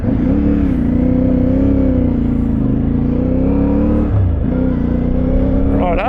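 A CFMOTO 450MT motorcycle engine rumbles loudly and up close, its low drone steady with small rises and dips in revs and a brief throttle change near the end.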